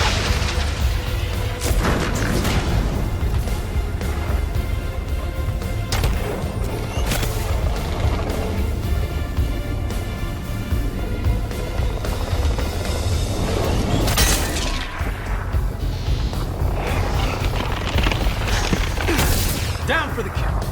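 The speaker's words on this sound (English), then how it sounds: "Thunderbolt missiles away." Thunderbolt missiles detonating in the Iron Man VR game, a dense run of loud crashing booms and shattering blasts layered under continuous battle noise and voices across the whole stretch.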